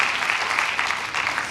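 Church congregation applauding in a steady, dense wash of clapping, loud and continuous with no clear pauses, filling the room in a short burst.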